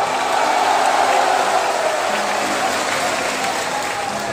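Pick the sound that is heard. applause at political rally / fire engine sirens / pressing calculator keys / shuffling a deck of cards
applause at political rally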